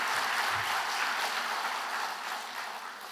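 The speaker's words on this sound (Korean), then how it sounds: "우리 귀한 찬송을 불러주신 동서울교회에 다시 한번 큰 박수로" Applause fills a church after a hymn at a winter camp service, a dense, steady wash of clapping from a large crowd that fades slightly toward the end.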